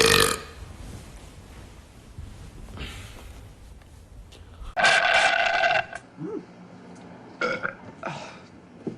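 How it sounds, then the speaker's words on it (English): A man burping, a loud throaty belch at the start and another strong one midway, followed by shorter grunts and bursts with quiet gaps between. "Oh, like a burp."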